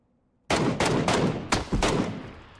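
Gunfire in a snowy PUBG battle royale match: after a silent moment, a rapid series of about five loud sharp shots cracks out close by, each ringing off with echo.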